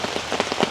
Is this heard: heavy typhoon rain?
yes